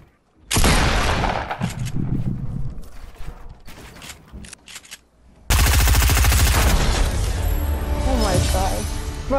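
Loud, close bursts of rapid automatic gunfire from the Fortnite video game, one stuttering stretch then a dense sustained barrage, with players talking over it.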